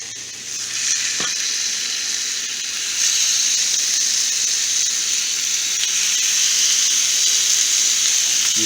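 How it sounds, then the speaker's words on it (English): Shrimp sizzle steadily in a preheated Copper Chef pan, a bright, continuous frying hiss that swells slightly after a few seconds, close and loud with no talking. "So I got this nice copper chef heated up. And throw some shrimp on here."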